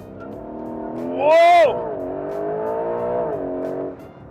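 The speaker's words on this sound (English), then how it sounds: "Let's see how quick this 541 horsepower car is off the line." A 541-horsepower hybrid Porsche 911 GTS with a rear engine launches hard off the line under launch control, its loud engine roar climbing sharply in pitch, then settling into a steady drone as a voice exclaims.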